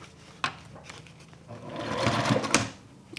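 A sewing machine stitches the side and bottom of a crossbody bag pocket, a soft whirring run that builds in the second half with a few sharp clicks, close and alone.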